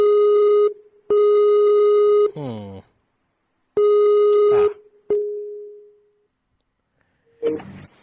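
A telephone line rings while a radio show dials a guest: steady electronic tones sound in separate long bursts with gaps, loud and clear, under brief bits of voice and noise.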